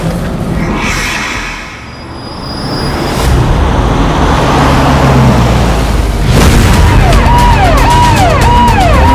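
A police car drives off fast with a loud engine roar and rushing road noise, then a siren starts wailing in a rising and falling pattern, all near and loud.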